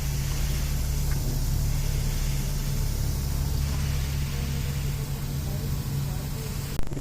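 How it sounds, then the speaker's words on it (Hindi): Water is sprayed over the outside of a 2012 Honda Civic during washing, a steady broadband hiss over a low hum that holds evenly throughout and ends with a brief knock. "बाहर से पानी लगा रहे हैं इसको"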